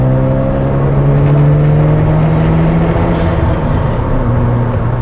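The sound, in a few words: Mazda RX-7 FD turbo blow-off valve with Pettit cold air intake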